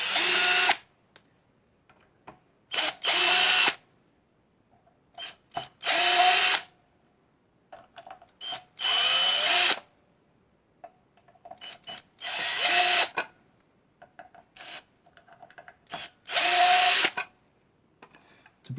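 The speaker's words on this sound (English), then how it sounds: "It's a brand new drill. It's not brushless, and the brushes are just burning themselves in." Brand new brushed power drill with fresh brushes burning in, run in short loud whirring bursts of about a second each, separated by near silence and faint handling clicks, repeated roughly ten times.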